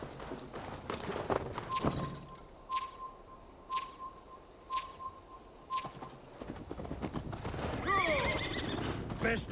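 A horse in Assassin's Creed Valhalla snorts and neighs amid hoofbeats, several sharp horse calls spaced out over a few seconds, then a rising whinny near the end, with some trotting and a voice nearby.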